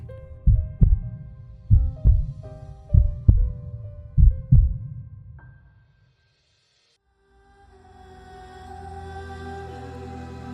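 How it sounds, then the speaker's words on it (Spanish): Heartbeat sound effect in a horror audio drama: five deep thumping double beats at a steady slow pace, each with a booming low resonance, then silence before a dark swelling drone rises. "La casa estaba condenada a escuchar ese latido, noche tras noche,"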